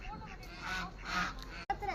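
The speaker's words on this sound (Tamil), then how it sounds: "இங்கே பாருங்க காய்ஸ், வாத்து எப்படி வருது பாருங்க" Ducks honk and quack nearby near a temple area, with a few short calls rising over background chatter and people talking.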